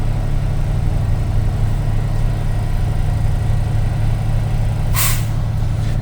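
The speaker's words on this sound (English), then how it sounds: "That sound was the governor cutout" A truck's air brake governor cutting out during an in-cab inspection: one sharp, brief hiss of released air near the end, over a steady low idling engine rumble.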